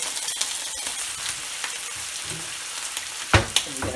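Steady crackling sizzle of about a quarter cup of water hitting a hot frying pan while cooking pot stickers, with a few louder pops and spatters near the end.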